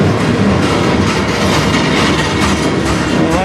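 A CN freight train rolls past at night in Sarnia, Ontario, a loud, steady rumble of wheels and cars filling the whole stretch with no talking.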